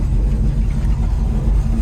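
A 1972 Chevrolet Chevelle SS drives along, its engine a continuous, close, loud low rumble with road noise throughout and no talk.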